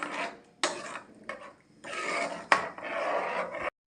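A spoon scraping and rasping around a pot of date payasam while stirring, in several close bursts of gritty scraping separated by short pauses.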